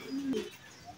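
A racing pigeon gives a single soft low coo, faint against quiet outdoor background.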